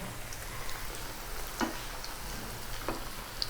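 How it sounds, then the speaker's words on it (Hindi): Taro leaf (arvi) rolls frying in hot oil, a steady soft sizzle throughout with a few small pops and crackles, moderately quiet and close. "1 मिनट से भी कम टाइम में ये फ्राई हो जाएंगे।"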